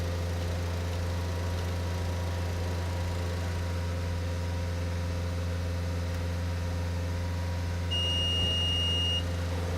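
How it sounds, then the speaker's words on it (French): A car engine held at a steady 2500 rpm during an engine flush rinse cycle in a workshop, a constant even hum and drone with a thin electronic beep tone near the end. "on effectue le cycle de rinçage moteur tournant à un régime de 2500"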